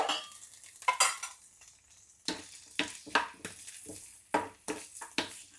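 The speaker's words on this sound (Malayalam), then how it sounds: "നെയ്യ് ഉരുകി തേങ്ങാക്കൊത്ത് മൂപ്പിക്കണം ആദ്യം" Coconut pieces frying in melted ghee in a pan, with a spoon stirring them in repeated short scraping strokes and soft sizzling between; close and fairly quiet, no talking.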